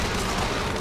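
A short, dense burst of booming, rumbling explosion noise, loud and close, from the video game BioShock Infinite.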